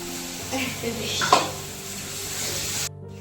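Onion, garlic and chili frying in a pan, a steady hiss of sizzling with a spatula scraping and a brief clatter, while faint voices murmur in the background.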